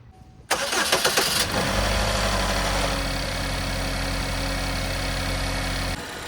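Car engine cranking and catching after a PCV hose repair, a short burst of starter whirring, then a steady, fairly loud idle with a low rumble that drops slightly near the end.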